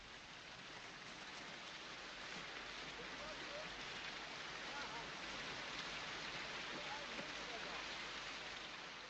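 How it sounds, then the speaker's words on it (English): Heavy rain in a war film scene of a retreat in Holland, a dense steady hiss of downpour spread evenly throughout, fairly faint. "It was raining heavily."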